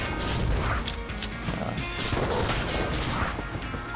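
Rapid gunfire bursts from Enter the Gungeon, a loud dense clatter of shots and impacts filling the whole stretch with no pauses.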